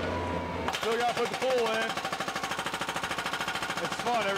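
A hydraulic hammer breaks rock during excavation for a vinyl-liner pool, a loud, rapid mechanical pounding that runs steadily through the clip under a voice.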